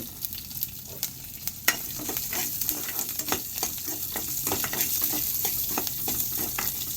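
Dried red chillies and garlic frying in a pan, a continuous close sizzle broken by repeated sharp spatula scrapes and taps of stirring, steady and fairly loud with no voices.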